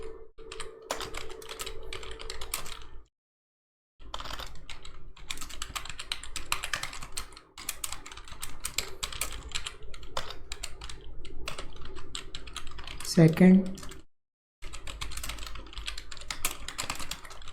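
Someone types in MS Word on a computer keyboard, producing quick irregular clicks and key taps in bursts, broken by a few short silent pauses.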